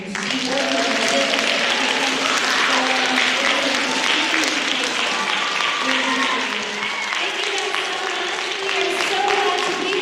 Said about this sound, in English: can we also give her a round of applause?